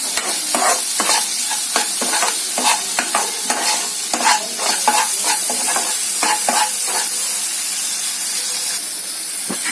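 Pizza topping seasoned with salt and pepper is stirred in a frying pan, a steady run of close scraping and clattering strokes over a constant bright sizzle, with no talking.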